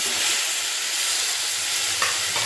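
Chopped tomatoes fry in a pan with a dense, even sizzle throughout, close and fairly loud, with a faint stir or two near the end.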